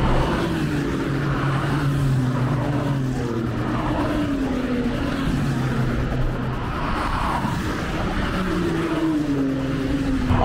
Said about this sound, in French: Vous avez vu passer quelques voitures clients encore.